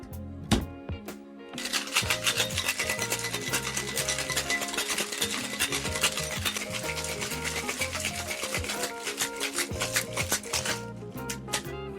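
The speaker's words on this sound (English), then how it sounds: "seal it tight and give it a good shake" A cocktail shaker packed with ice and a Corpse Reviver No. 2 with fresh lemon juice is shaken hard, giving a steady rapid rattle and clatter of ice for about eight seconds after a few sharp knocks.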